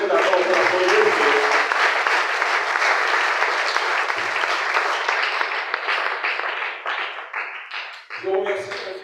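A church congregation applauds and cheers for the Lord, a long, loud and steady wash of clapping with voices mixed in that thins toward the end before a brief renewed burst.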